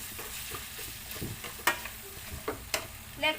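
Tomatoes sprinkled with salt fry in a pan and are stirred, giving a soft close sizzle broken by scraping strokes and a few sharp clinks of the utensil against the pan.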